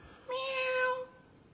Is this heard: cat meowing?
yes